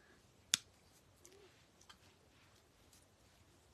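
Flower stems cut for a door basket: one sharp snip from scissors or shears near the start, then a few faint clicks and small handling sounds in a quiet room.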